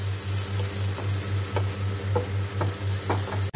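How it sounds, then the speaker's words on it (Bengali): Butter melting in a pan for a creamy mushroom dish gives off a soft, continuous close sizzle over a low pulsing hum, ending with a sharp click. "তাই জন্য প্যানে আমি বাটার দিয়ে দিলাম।"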